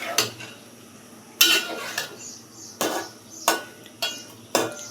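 Pangas fish being stirred in a pot over a gas stove, a utensil scraping and clinking against the metal in sharp strokes roughly every half second to second, close and fairly loud against a quiet background.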